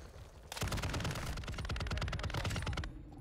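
Rapid automatic gunfire in Call of Duty: Modern Warfare II. A loud, close, steady stream of shots starts abruptly and hammers on for almost three seconds before cutting off, with no voices over it.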